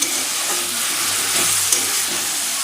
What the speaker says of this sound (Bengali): এইবারে সমস্ত সবজিগুলো দিয়ে একটু নুন হলুদ দিয়ে এটা ভালো করে ভেজে নেব